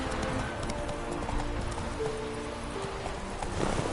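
Roach the horse gallops in The Witcher 3, a fast, steady clip-clop of hooves with a brief whinny amid ambient game sounds.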